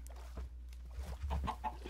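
Short clucks from a Minecraft chicken come in a quick cluster, faint and close, with a low steady hum underneath.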